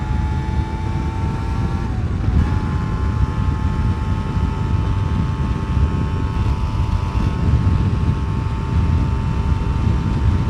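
A Yamaha TDR 125 two-stroke motorcycle engine drones steadily at high revs, around 6000 rpm in sixth gear, its pitch dipping briefly then holding, mixed with rushing wind noise.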